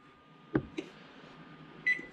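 An oven timer is set while banana bread bakes, giving a couple of faint, quick button clicks followed by a short electronic beep in a quiet kitchen.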